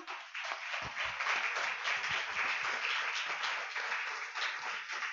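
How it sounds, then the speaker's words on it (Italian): An audience at a literary talk in Naples applauds a guest, with dense, steady clapping throughout and no voices. "vi chiedo un applauso per Giuseppe Montesano."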